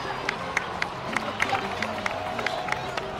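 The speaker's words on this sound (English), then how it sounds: "please give another round of applause for them" Crowd applause and cheering in Genshin Impact, a steady wash of crowd noise with regular sharp clapping accents and faint voices underneath.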